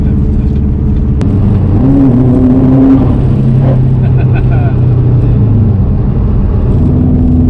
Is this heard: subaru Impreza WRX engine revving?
yes